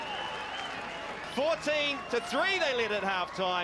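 A crowd cheers and applauds at a rugby match between Bay of Plenty Steamers and Waikato at Tauranga Domain, a steady roar sitting beneath a commentator who talks over it throughout.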